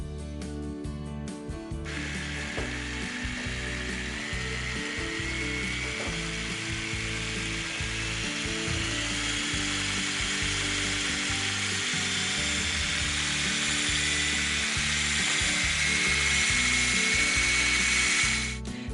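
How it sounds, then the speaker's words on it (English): An Emerio 500-watt variable-speed stick mixer motor runs in a continuous high whine for the whole stretch, close and loud, building slightly in intensity toward the end over a faint rhythmic background pulse. "The stick mixer features a revolutionary speed regulator."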